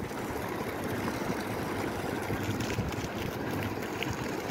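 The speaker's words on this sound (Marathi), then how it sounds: "बोट चालू केलेली आहे" A fishing boat sits with its motor running, giving a steady, loud, unbroken rumble mixed with wind buffeting the microphone, and no voices.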